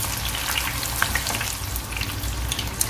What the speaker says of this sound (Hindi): इसे मैंने उलट पुलट करके अच्छी तरह से फ्राई किया है